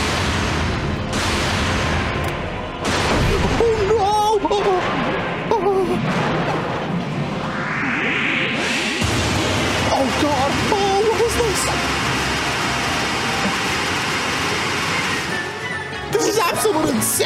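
In a boss fight in Kirby's Return to Dream Land Deluxe, the boss's cannons fire as loud booming blasts and crashes in repeated bursts over game music, while a player shouts excitedly over the action.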